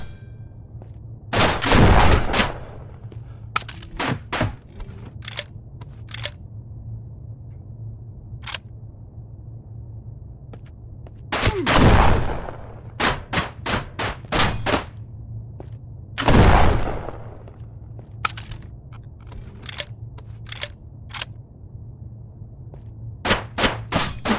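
Gunfire in the VR shooter Shotwood: sharp, loud bursts of shots in clusters, a few long booming blasts and scattered single cracks over a low steady hum, with quiet gaps between volleys; no talk.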